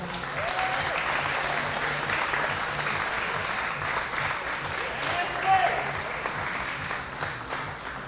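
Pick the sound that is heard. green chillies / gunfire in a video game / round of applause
round of applause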